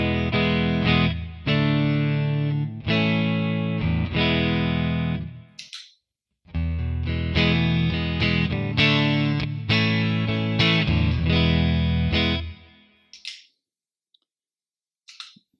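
Electric guitar played through a Classic Reverb amp model, crunchy and driven, strummed chords and riffs in two phrases with a brief pause between, ending in a few light clicks.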